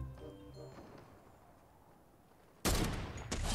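Gunfire in the video game Fortnite, a dense burst of rapid shots breaking out near the end after a quieter stretch of fading game sounds, with no talk over it.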